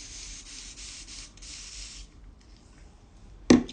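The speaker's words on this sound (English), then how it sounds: "So I'm going to spray." Several quick hissing sprays from a pump bottle in close succession, followed by quiet and a sudden soft thump at the end.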